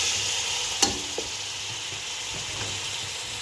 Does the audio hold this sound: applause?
no